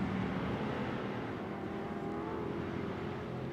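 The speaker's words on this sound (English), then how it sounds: "Vaughn Gittin goes by the front stretch here in turn 1." An Ultra4 off-road race car passes along the front stretch into turn 1 at the Crandon World Championship night race, a distant, steady engine roar with a slowly shifting pitch, heard alone without commentary.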